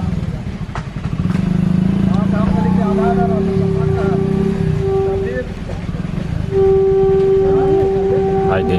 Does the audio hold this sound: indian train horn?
yes